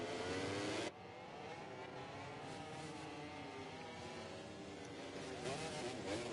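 Racing motorcycle engines of GP24 bikes in MotoGP 24 at the Spanish Grand Prix, a loud opening burst dropping to a steady layered whine of several machines running together, pitches rising and falling as they jostle for position.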